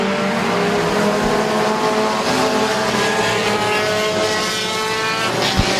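Race cars run a Compact B feature at Midvale Speedway, a sustained loud engine roar with shifting pitch lines from several cars circling together, plus a brief tire squeal, with no voices.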